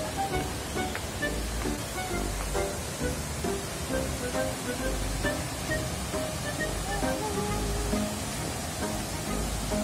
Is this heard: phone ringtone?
no